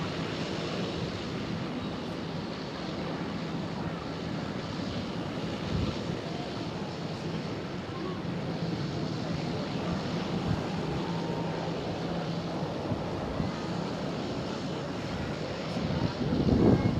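Airliner jet engines at Schiphol airport, Amsterdam, with a Boeing 737 nearby: a steady broadband roar held loud and constant throughout, swelling slightly near the end, with wind buffeting the microphone.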